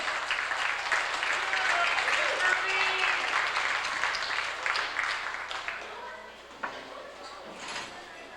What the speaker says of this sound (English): Why don't you clap as we welcome Derek Streval to come up on stage for us.